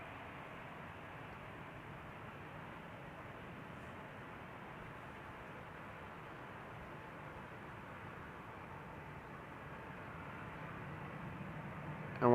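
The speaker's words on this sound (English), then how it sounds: "Qatar flight 8202 to Doha. Spooling up." A Qatar airliner bound for Doha spools up its jet engines while taxiing at Amsterdam Schiphol Airport, giving a steady, distant, even roar that holds throughout and swells slightly at the very end.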